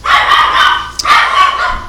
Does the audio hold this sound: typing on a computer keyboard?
no